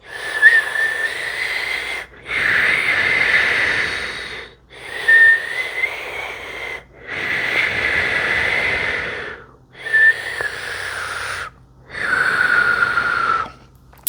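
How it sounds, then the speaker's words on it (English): Slow breaths drawn in and out through rounded lips, each carrying a soft airy whistle, six long breaths separated by short pauses. "breathing here through an O-shaped mouth, in and out. If we make a whistling sound, great."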